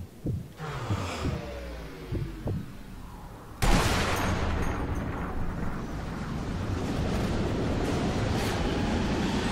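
Gunfire in the Sniper Elite 2 video game, with several sharp low thuds ringing over a droning background, then a sudden heavy blast giving way to a loud, continuous rumbling roar.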